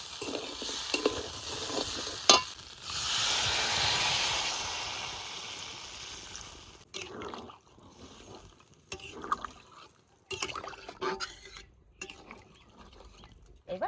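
Water poured into a hot kadai of sizzling country-chicken curry bursts into a loud, steady hiss that fades over a few seconds, followed by quieter scraping and stirring sounds with brief gaps.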